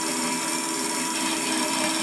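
A small Hafco BS-5V bandsaw cuts through metal with a steady, close grinding hiss that stays at an even rasping level throughout, and no voices are heard.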